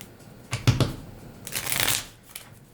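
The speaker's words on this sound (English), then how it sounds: "the cards are just not shuffling very smoothly" Tarot cards being shuffled by hand in two short riffling bursts, the second longer and brighter, with quiet pauses between and no talking.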